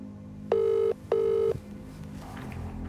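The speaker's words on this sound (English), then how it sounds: "The Dowlers are constantly ringing Milly's phone" A telephone rings with two long, steady electronic ring tones separated by a short gap, loud and close, then fades into quiet room noise.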